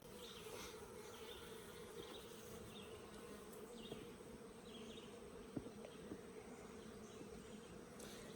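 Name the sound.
honey bees buzzing in hive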